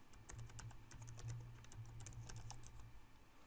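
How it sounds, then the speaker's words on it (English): Fingers type a new username on a computer keyboard, a quick run of light, crisp key clicks in an irregular rhythm, close and quiet over a faint low hum. "then type our new username into this box"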